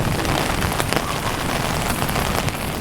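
Heavy rain pours steadily during a thunderstorm in Tokyo, a loud, dense wash of drops with no clear thunder crack standing out and no one talking.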